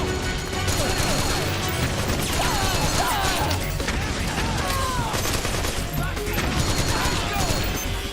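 Gunfire in Metal Gear Solid 4 combat, dense rapid bursts of automatic weapons firing continuously with crashes and impacts, loud and chaotic with shouting voices underneath.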